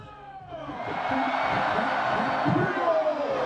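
Student crowd cheering at a Sungkyunkwan University autumn festival concert featuring invited singers, a broad sustained roar of voices with whoops rising after the first second and holding steady.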